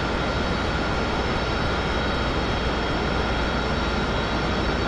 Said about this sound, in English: it's just advance the throttle slightly